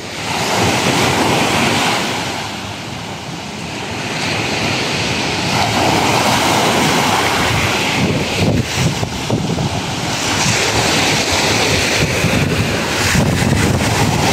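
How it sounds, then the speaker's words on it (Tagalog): Strong, wind-driven waves surge and crash along Manila Bay in the aftermath of Typhoon Uwan, a loud continuous wash of surf with gusts buffeting the microphone throughout. "Grabing alon, oh."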